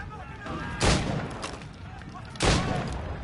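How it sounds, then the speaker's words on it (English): Two loud gunshots fired in Assassin's Creed Rogue, spaced a second and a half apart over a low game background, each a sharp booming crack. "2 shots to kill him"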